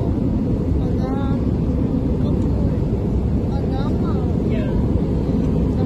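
Steady, loud broadband airplane engine rumble inside the cabin fills the whole clip, with faint voices talking now and then beneath the continuous drone.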